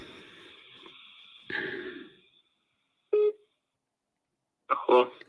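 Someone places a telephone call: short tonal dialing beeps and brief ringing bursts, separated by stretches of near silence.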